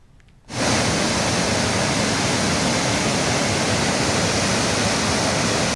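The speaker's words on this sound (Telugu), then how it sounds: "అంతెత్తు నుంచి కిందకి దూకే జలధారలను ఎంత చూసినా తనివి తీరడం లేదు" Waterfalls plunging from a height after heavy rains, a dense, loud roar of falling water that bursts in after a quiet half-second and then holds constant and close.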